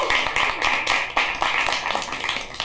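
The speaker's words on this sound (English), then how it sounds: "I'll note that applause was for Jawstruck and not for the poem." An audience at a poetry event applauds, a dense burst of close, many-handed clapping that carries on steadily and loudly with no voices over it.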